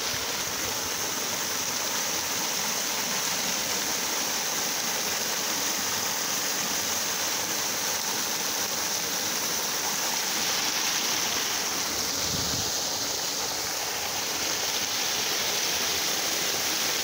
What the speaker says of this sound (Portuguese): a roda d'água, realmente